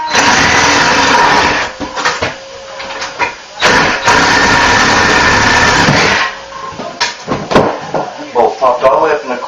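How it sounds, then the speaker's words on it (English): A Sawzall reciprocating saw cuts through rusted bolts during a bathroom remodel, buzzing loud and close in uneven bursts with brief stops, while a person talks over part of it. "I'm going to hit them with a sawzall"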